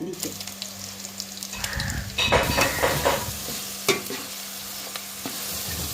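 Crushed ginger and garlic tipped into golden frying onions for Jaffna biryani, a sudden burst of sizzling followed by spatula scrapes and stirring against the pot, close and loud, with faint talk in the background.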